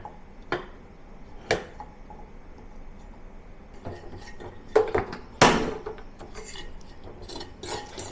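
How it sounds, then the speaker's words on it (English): Belacan shrimp paste broken up and toasted in a dry pan with no oil, heard as scattered scraping and tapping of a utensil against the pan, with a few sharper knocks over a quiet background. "Put the belacan into a pan, no oil, just the belacan only, and try to break it into small pieces and toast it until it becomes dry."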